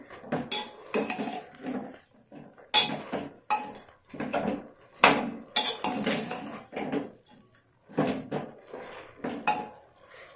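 A mix of spinach, bathua and mustard greens is turned over in a metal pot, giving repeated clanking and scraping strikes of a utensil against the pot in uneven bursts, close and fairly loud with brief quiet gaps.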